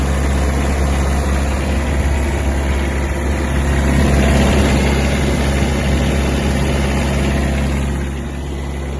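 Three-cylinder engine of a Japanese Kubota X-20 mini tractor running steadily near at hand, a loud continuous low rumble with a dense mechanical hum that eases slightly near the end.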